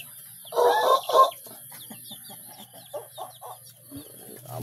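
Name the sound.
tilawak rooster clucking and crowing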